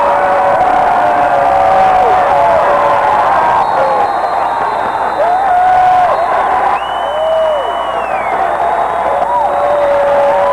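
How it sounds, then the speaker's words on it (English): A basketball arena crowd at a 1991 college game, Memphis State at Tulane, roars with sustained cheering and applause, loud and dense throughout, with whistles and whoops cutting through the steady din. "This crowd going wild."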